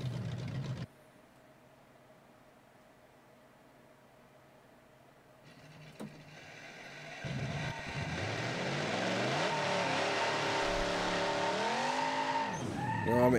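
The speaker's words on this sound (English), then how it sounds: "And we're launching with nitrous. Spinning out of the hole with 122." A BeamNG drag car on a strip builds from near silence into a roaring nitrous launch, its tires spinning and squealing loudly for several seconds as the engine note climbs and wavers.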